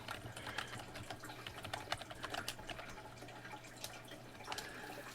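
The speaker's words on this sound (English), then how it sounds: "I'm going to type in one of those fake messages right now so you can see it" Someone typing on a computer keyboard, a quiet, steady patter of keystrokes over a faint background hum, with no voices.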